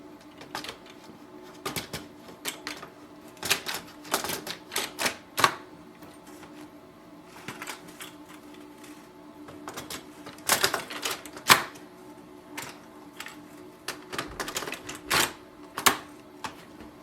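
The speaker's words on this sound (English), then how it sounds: "push the door down and wait for the printer to start" A Brother HL-L3220CDW colour laser printer powers up after a toner cartridge swap, giving a string of irregular mechanical clicks, clacks and whirring bursts close by over a steady low hum, with no talking.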